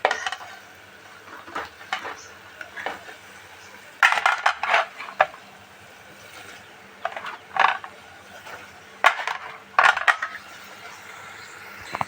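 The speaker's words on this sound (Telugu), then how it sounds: "ఇప్పుడు మనం బెండకాయ అనేది వేసేద్దాం" Sliced okra drops into a pan of tomato masala curry for a Telugu okra-tomato dish, giving a few scattered clatters and light clinks of pieces and a utensil against the pan, with quiet gaps between bursts and no talk.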